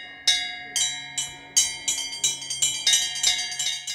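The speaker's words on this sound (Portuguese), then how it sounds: "o toque dos sinos" A series of bell strikes rings out in a steady, quickening rhythm, each chime clear and resonant with long overlapping decays.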